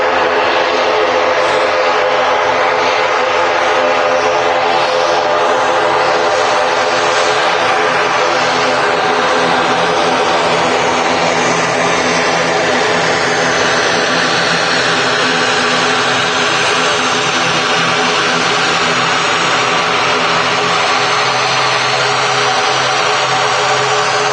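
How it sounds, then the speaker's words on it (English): An ATR 42 turboprop taxis past at Manchester Airport, its loud steady propeller drone and engine whine holding continuously for the whole stretch with a slight shift in tone as it moves by. "As this aircraft goes past us, it's a lot shorter than the other ATRs we see. It's the ATR 42."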